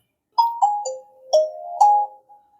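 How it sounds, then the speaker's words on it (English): A Nokia 3210 4G feature phone plays its startup sound, a clear sequence of bright melodic chime tones rising and falling, close and loud against silence, ending with a soft final note. "The startup sound."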